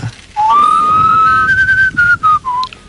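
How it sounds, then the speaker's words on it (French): A single person whistles a bright, sustained melody, sliding slowly upward, then breaking into a few short final notes, close and loud. "Mais tu siffles bien aussi, toi."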